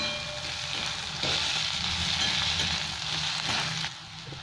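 Peas, onion, ginger, garlic and chopped green chillies fry steadily in hot oil for a home-cooked potato and cauliflower curry, a close, continuous crackling sizzle with faint stirring scrapes and no talking.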